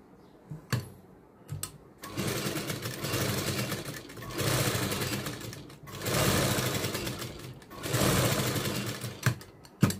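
An electric sewing machine stitches a rose tassel in a round, golden fabric on top, running in rapid whirring bursts separated by short pauses, close and fairly quiet, with small clicks between runs.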